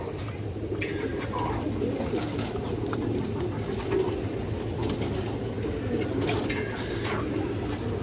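Pigeons coo softly and repeatedly over a constant low rumbling background, with occasional faint chirps throughout.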